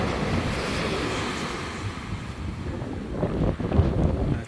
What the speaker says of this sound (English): But there's always waves, always.